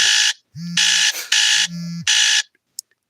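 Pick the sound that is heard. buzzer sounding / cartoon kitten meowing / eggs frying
buzzer sounding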